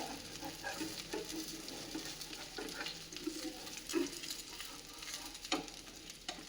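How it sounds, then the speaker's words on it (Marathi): A spinach dhirdi, a thin lacy pancake, cooks on a pan after being flipped, giving off a soft, steady sizzle with faint crackles and occasional small pops. "आता दुसरी सुद्धा व्यवस्थित भाजून घेऊयात पलटवून घेऊयात दुसरी सुद्धा"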